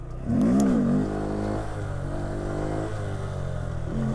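Honda Grom stunt motorcycle engine revving hard as the bike lifts into a wheelie, a loud rising-and-falling rev near the start that settles into a steady, close engine drone with no talking.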